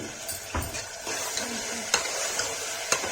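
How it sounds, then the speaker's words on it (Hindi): Turmeric and red chili powder sautéing in a pan for a Kashmiri potato-tomato curry, with a soft continuous fry and a few sharp spatula scrapes and taps against the pan. "अब इसको अच्छे से भून लेंगे।"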